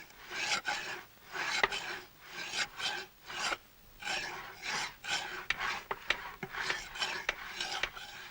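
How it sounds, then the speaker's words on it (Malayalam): A chisel is sharpened on a stone with repeated rhythmic rasping strokes, each rub rising and falling in a steady back-and-forth pattern, close and fairly loud, with no talk. "ഈ ഉളി തേക്കാൻ തുടങ്ങിയിട്ട് നേരം എത്രയായെന്നാ ഞാൻ ചോദിച്ചത്."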